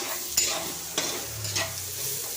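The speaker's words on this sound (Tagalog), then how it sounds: "Gisa muna natin yung sibuyas." Chopped onions sautéing in a hot pan as the first step of pancit canton, a steady sizzle broken by three sharp scrape-and-stir clatters of a utensil, close and moderately loud with no talking.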